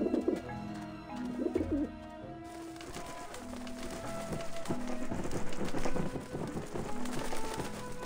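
Pigeons coo in a game scene from Grim Fandango Remastered, soft repeated throaty calls over a steady ambient game background, with a busier layer of sound building in the second half.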